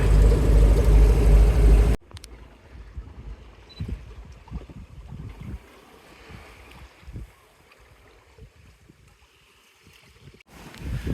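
A sailboat running downwind off the west coast of Vancouver Island, with a steady rush of wind and water against the hull, a loud gust burst at the start, then quieter lapping and creaks.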